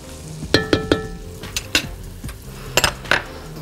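Onions and vegetables fry in a pot with a soft steady sizzle while a utensil stirs them, scraping and clinking against the metal in irregular knocks, close and fairly quiet.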